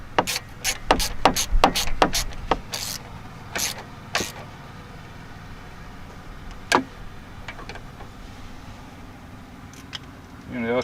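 Ratchet wrench tightening a bolt on a rear upper control arm of a Chevy Trailblazer, quick clusters of clicks early on, then sparse single clicks over a quiet background.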